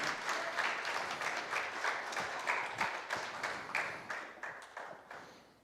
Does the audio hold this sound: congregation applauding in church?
yes